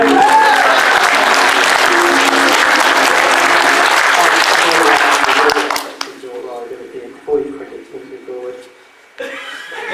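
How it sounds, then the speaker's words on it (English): A crowd gives a loud, sustained round of applause for about six seconds, then it cuts off and a few chuckles and quieter sounds follow. "Round of applause for Tony."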